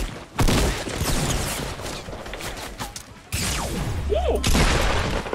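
A pump shotgun fires in Fortnite, with sharp loud blasts and rapid bursts of gunfire in a busy close-range fight, one heavy boom standing out near the end.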